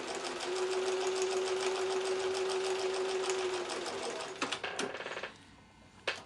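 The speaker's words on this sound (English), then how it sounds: "again stitch from my thread saver" A sewing machine runs steadily for about four seconds while stitching a quilt seam for a mini mosaic block, then slows and stops, followed by a few short clicks and taps.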